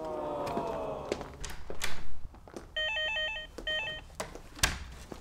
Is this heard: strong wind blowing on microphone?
no